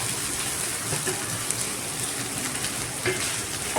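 Chopped onions fry steadily in a pan for tempered sandhavai, a continuous close crackling sizzle with a faint stir partway through and no voices.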